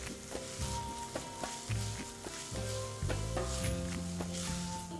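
Grated coconut soaked in milk toasts in a pan with a soft, continuous sizzle, broken by light scraping taps of stirring at a slow, uneven rhythm, with no talking.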